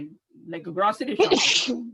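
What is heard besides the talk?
sneeze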